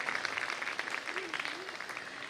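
Audience applause at a school annual function, a dense, steady patter of many hands clapping from a crowd in a hall, with a voice heard over it.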